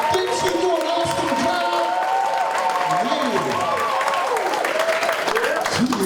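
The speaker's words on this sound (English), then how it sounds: "Let's give her a big hand clap." Audience applause and cheering at an interfaith healthcare summit, loud sustained clapping with whoops and shouts throughout, steady and close with voices mixed in.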